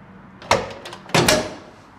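A door opens with two sharp knocks or clunks about half a second apart, close and fairly loud, each fading quickly into a quiet room.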